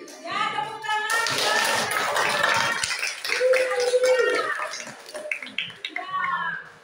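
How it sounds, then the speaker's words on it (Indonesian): Classroom students clapping hands after a group presentation, a burst of quick clapping mixed with children's voices and chatter, rising and fading over several seconds. "tepuk tangan"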